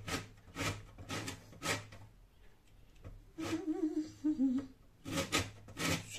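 Lemon zest grated on a hand grater for pestiños, with close, rhythmic rasping strokes in two bursts and a short stretch of voice between them.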